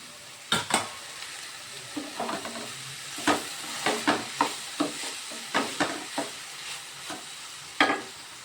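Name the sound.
drumstick flowers stir-fried with potato and onion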